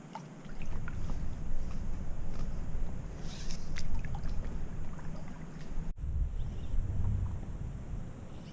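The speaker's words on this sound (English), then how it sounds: "Decided to go for one last evening paddle" A boat paddled across open water in the evening off the Yucatan coast, with soft sloshes and paddle strokes under steady wind and water noise.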